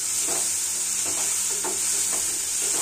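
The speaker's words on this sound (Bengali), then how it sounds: "লবণটা সব কিছুর সাথে খুব ভালোভাবে মিলিয়ে মিশিয়ে নেব।" A utensil scrapes and stirs salt through cabbage and egg frying in a pan, a few soft rhythmic scrapes over a constant close sizzle, with no talk.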